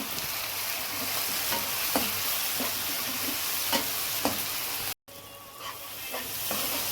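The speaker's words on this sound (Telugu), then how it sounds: "టమాటా పచ్చిమిర్చి వేసాం కదండి. ఇవి కొద్దిగా బాగా వేగినాయి." Tomatoes and green chillies frying in a pan, a steady low sizzle with occasional scrape-like stirring clicks, moderately quiet and close, briefly cutting out before resuming.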